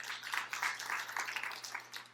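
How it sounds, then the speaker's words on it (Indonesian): Applause from a church congregation during a sermon, a steady wash of many hands clapping at moderate distance, fairly quiet and continuous for a couple of seconds with no voices over it. "Tepuk tangan yang meriah untuk kemuliaan nama Tuhan."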